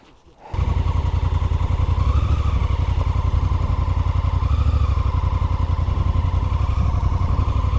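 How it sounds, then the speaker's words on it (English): A 2016 Honda Africa Twin adventure motorcycle starts up and rides over grass, its engine a loud, steady, close throbbing drone that runs continuously after a brief quiet start. "It's an adventure bike, so I'm going to make it adventurous and ride over the grass."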